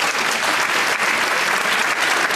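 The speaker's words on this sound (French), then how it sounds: "Applaudissements, s'il vous plaît" Loud, close applause fills a graduation ceremony for a master's class, with many hands clapping in a dense, continuous roar that stays level from start to finish.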